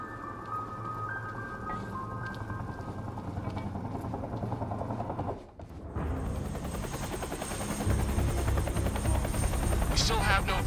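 Helicopter in the Quantum Break video game, a steady rotor and engine drone that continues under game sound effects, with a brief dip midway and a louder stretch toward the end.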